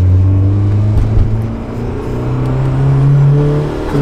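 A turbocharged Mazda Miata accelerates in second gear from inside the car: a loud, steady engine drone whose pitch rises slowly, with no speech.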